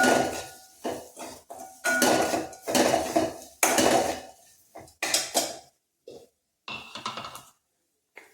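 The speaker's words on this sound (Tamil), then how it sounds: "இந்த அரைச்சி வச்சுருக்க கருவேப்பிலையும் போட்டுக்கோ அதில் இந்த மசாலாவோட சேர்த்து கிண்டி விட்டுக்குவோம்" A spoon or spatula stirring ground curry leaf paste and masala in oil in a metal pan, with repeated loud scraping and clanking strokes in an uneven rhythm and brief quiet gaps between them.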